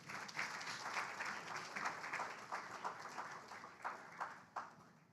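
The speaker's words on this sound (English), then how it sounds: "Let us applaud the 5Cs." Quiet applause from an audience at a climate panel discussion, a mid-sized crowd clapping unevenly with distinct individual claps standing out as it fades.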